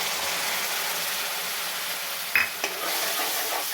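A spoon stirs Kashmiri dum aloo with yogurt in a pan over low heat, a steady sizzle and hiss broken by a couple of sharp clinks against the metal.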